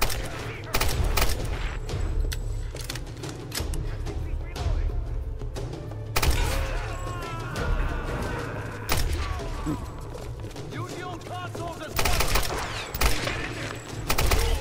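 Gunfire from an old firearm in Tomb Raider (2013), with repeated loud shots and thuds running throughout amid busy game noise, while a voice talks over it.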